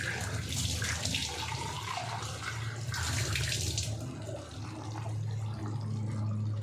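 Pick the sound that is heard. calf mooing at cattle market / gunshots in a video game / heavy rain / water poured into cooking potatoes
water poured into cooking potatoes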